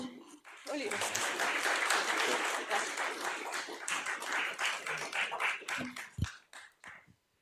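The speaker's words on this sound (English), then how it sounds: "Applause." An audience at a game jam event applauds for several seconds, steady clapping filling the space before it thins out and fades.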